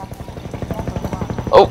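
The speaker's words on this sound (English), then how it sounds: "Oh, there's the helicopter." A helicopter in Half-Life 2 gives a steady, rapid rotor thump pulsing throughout, moderately loud and continuous, with a brief sharp burst near the end.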